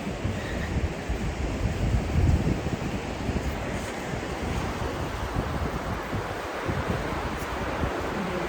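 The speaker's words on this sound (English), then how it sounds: "You guys like to hear the ocean in the background." Ocean waves wash steadily onto a beach shore, a continuous broadband roar of surf with gusting wind noise buffeting the microphone throughout, no voices present.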